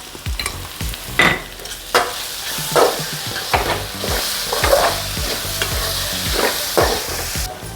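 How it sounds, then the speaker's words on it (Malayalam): Onions sautéing with salt in a pan for a Kerala catering-style chicken roast, a steady close sizzle broken by repeated scraping stirs of a spoon against the pan, with no talking. "ഉപ്പും കൊണ്ടിട്ട് ഉള്ളി ഒന്ന് വാടി വരാൻ വേണ്ടി"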